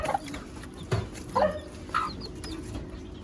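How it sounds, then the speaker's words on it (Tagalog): A few short mother hen clucks at scattered intervals, fairly close, over a low steady background hum. "So itong inahin na to mga boss ay inahin po ito ni Tatay Eli mga idol."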